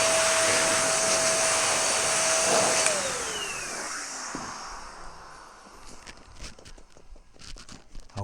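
An air blower roars steadily over the paintwork of a Porsche 911 C4S for about three seconds, then winds down with a falling whine, leaving scattered clicks and light handling noises.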